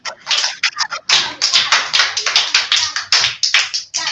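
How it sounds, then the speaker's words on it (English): A classroom group claps for a student during a virtual space tour, a dense burst of many hands that pauses briefly, then resumes steadily and loudly for several seconds with no talking. "All of you should clap for him."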